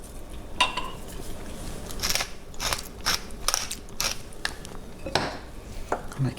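A pepper grinder cranks over a pasta salad with a Mexican twist, giving short bursts of gritty ratcheting clicks in an irregular rhythm, close and fairly quiet, with no talking.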